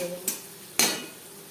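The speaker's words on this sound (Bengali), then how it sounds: "আদা বাটা কাঁচা লঙ্কা বাটা লবণ হলুদ ও মশলা আলুর সাথে বেশ ভালো করে মিক্স" Potatoes with ginger paste, green chilli paste, salt, turmeric and spices being mixed in a pan for a fish curry, heard as two sharp utensil clinks and scrapes against the pan with quiet pauses between.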